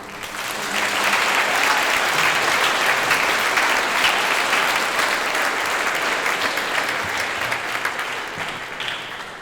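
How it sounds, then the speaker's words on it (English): A school Founder's Day assembly audience claps in steady, dense applause that stays loud from start to finish, with faint crowd murmur beneath. "How about a round of applause for"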